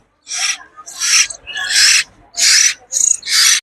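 A pair of cockatiels with two chicks gives loud, raspy calls close by: six harsh hissing bursts in an uneven rhythm, separated by short silences.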